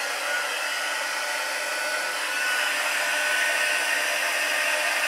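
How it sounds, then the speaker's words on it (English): A heat tool blows steadily while melting white embossing powder on grey granite card stock, a continuous hair-dryer-like whoosh heard close and alone, holding the same level throughout with a slight rise partway through. "Heat tool."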